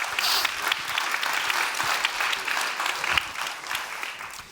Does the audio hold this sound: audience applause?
yes